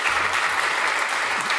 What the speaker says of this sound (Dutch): Mag ik een groot applaus voor Thomas von der Dunk.